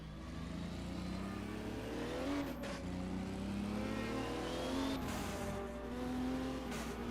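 A 1978 DRM race car lapping during a Super Sprint round, its engine droning steadily throughout with shifting pitch as it revs up and eases off through gears, close and loud, with a brief faint voice.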